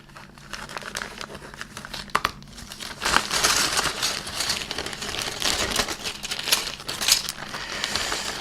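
Small plastic bag holding Airfix 1/72 Beagle Bassett 206 model kit parts being handled and opened, close crisp crinkling and rustling with light clicks of plastic pieces, growing busier and louder partway through.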